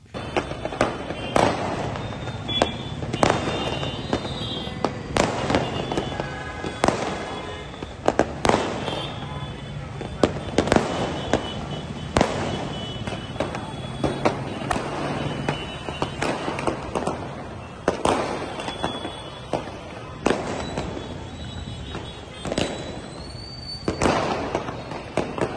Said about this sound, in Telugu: పలువురు నాయకులు బాణసంచా కాల్చి సంబరాలు జరుపుకున్నారు.